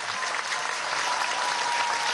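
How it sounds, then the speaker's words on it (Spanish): A crowd applauds the Latin American instruments orchestra Odila at a Venezuelan government event, a dense, even wash of clapping that holds steadily throughout. "Quiero que le demos un aplauso a la Orquesta de Instrumentos Latinoamericanos"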